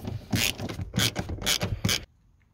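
Factory seat bolts being tightened in a Toyota Landcruiser VDJ79 single cab: four or five loud, rhythmic ratcheting rasps close by, each about a quarter-second long, then sudden quiet.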